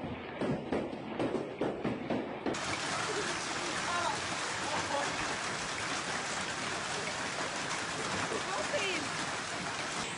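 Hailstones the size of tennis balls fall during a storm in Australia, making a dense, continuous hiss and patter of many impacts. It is preceded by a few seconds of irregular thumps and speech.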